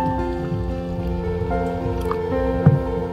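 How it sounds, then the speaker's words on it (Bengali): Warm water poured into dry rice flour and mixed by hand for dudh chitoi pitha batter: soft drips and wet squishing over a steady background hum, with one louder squelch near the end. "একদম উষ্ণ গরম জল দেবো, হাতে সহ্য হয় এমন জল দেবো। জল দিয়ে গুলে নেব"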